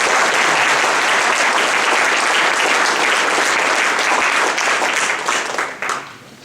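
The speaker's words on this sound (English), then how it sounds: "Can we give them a nice round of applause?" Loud, dense round of audience applause closing a morning keynote session on clean water technology, a large crowd clapping continuously before the sound thins out and fades in the final second.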